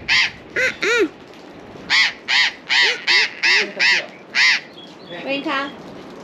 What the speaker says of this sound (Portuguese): Olha que lindo o passarinho, baixinho.